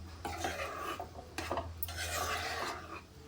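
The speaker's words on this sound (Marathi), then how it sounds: "आता मीडियम फ्लेमवरती आपण हे शिजवून घ्यायचं आहे सतत हलवत राहायचं आहे" Besan and coconut barfi mixture stirred in a pan over a medium gas flame, a close scraping of a spoon against the metal pan in repeated strokes with a soft steady hum beneath.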